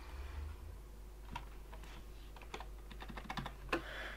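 A computer keyboard clicks close by in a Minecraft session, a few scattered keystrokes with one sharper press near the end over a low hum.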